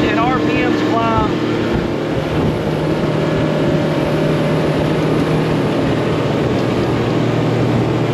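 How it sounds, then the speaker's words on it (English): Outboard motors on a towing boat running at speed as they are trimmed up, a loud, steady droning roar with a rising whine, mixed with wind and water rush and brief voices. "Now, while we're running, we're gonna trim this motor up a little bit. Watch the speed and RPMs climb."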